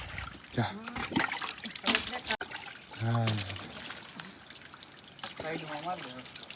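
Water splashes and pours steadily while several people talk over it, voices prominent and the splashing continuing in the background.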